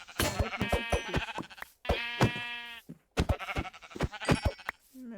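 Sheep in Minecraft bleating several times in a row, close and clear, with short separate calls broken by brief gaps and no talking.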